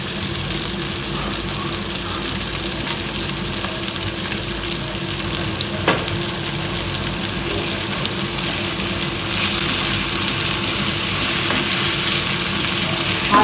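Chopped bitter gourd and green chili fry in a pan, giving a steady, fairly loud sizzle that runs unbroken and fills the whole stretch without any voices.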